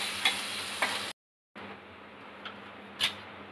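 Tomato puree frying in a pan for restaurant-style matar paneer, a steady soft sizzle with a few light spoon clicks, briefly cut to silence before the hiss resumes.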